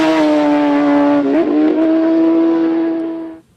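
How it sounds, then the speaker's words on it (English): A superbike with more than 200 brake horsepower racing on public roads at the Isle of Man race, a loud sustained engine whine with a brief pitch wobble midway, fading out quickly at the end. "They're racing on public roads, on super bikes with more than 200 brake horsepower."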